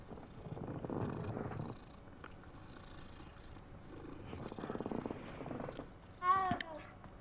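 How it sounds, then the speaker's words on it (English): A cat in the video game Hogwarts Legacy purrs as it is petted, in two soft rumbling bursts with a pause between, followed by a short meow near the end. "We get to pet the cat."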